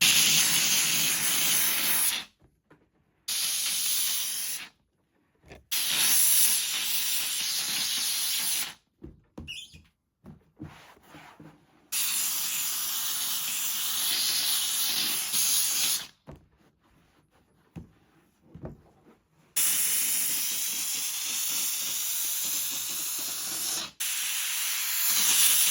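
A steam cleaner sprays hissing bursts of steam onto a Land Rover Discovery 2 door panel, coming in several loud blasts of a few seconds each, separated by sharp silent pauses.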